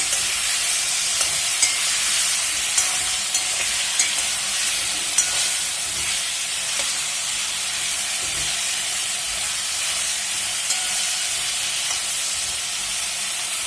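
Potatoes fry in a pan on top of carrots while being stirred, a steady loud sizzle and hiss running throughout with faint scrapes of the spoon, no voices.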